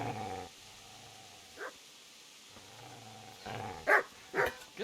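A dog in Kingdom Come Deliverance barks and growls in short, sharp outbursts, with low snarls between them and a few loud yips clustered near the end.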